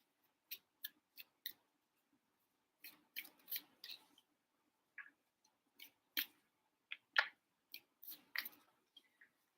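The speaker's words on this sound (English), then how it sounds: "but I have to yet shuffle the cards" Sharp papery flicks and riffles come in bursts with short pauses, close and fairly quiet, as tarot cards are shuffled by hand. No one speaks.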